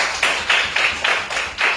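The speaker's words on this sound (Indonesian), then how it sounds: "Tepuk tangan dulu untuk kelompok 1." Children clap their hands together in a steady, rhythmic pattern, with about seven evenly spaced bursts of claps, moderately close, and no talking over them.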